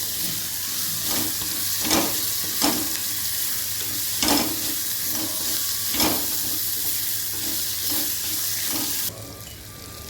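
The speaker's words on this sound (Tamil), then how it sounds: "வெங்காயம் நல்லா சாஃப்ட் ஆகிற வரைக்கும் நல்லா வதக்கிடுவோம்" Chopped onions with salt sauté in an oil-filled pan for masala kuzhipaniyaram, giving a steady close sizzle with periodic soft stirring scrapes throughout, and no voices.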